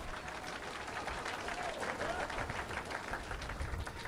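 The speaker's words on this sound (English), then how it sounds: "Round of applause, huh?" Applause from a live debate audience: dense, continuous clapping that holds steady for about four seconds at moderate loudness.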